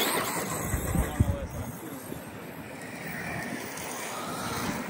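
A Team Corally Skeeter RC truck runs its final race lap, giving off a steady, rushing motor whir with a few brief louder bumps early on.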